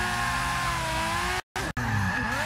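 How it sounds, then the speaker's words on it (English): Drift cars at Monza in an ESDA round skid into a turn, tires squealing steadily over loud engine roar, broken by two brief dropouts before the skidding resumes. "Looking like the lead car able to just hold a bit more angle and holding the drift a little bit further into that turn"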